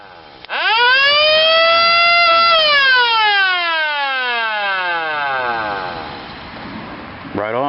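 A siren spins up with a loud, rising wail that peaks after about two seconds and then slowly winds down in pitch, with a brief clunk at the very end.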